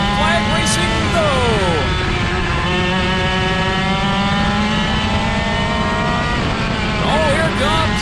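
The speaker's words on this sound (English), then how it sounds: "Kylie Martinson, Brian Good, making green flag racing go." Race cars roar around a state championship oval under green flag, engines droning loud and continuous with layered revving pitches as the pack passes, a commentator talking over the noise.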